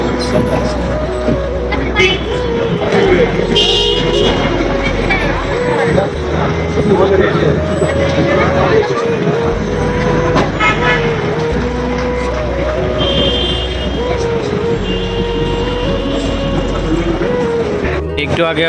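Busy road traffic rumbles around the Gaza bus stand near Makkah, with engines and occasional horns mixed under close, continuous talking by a man.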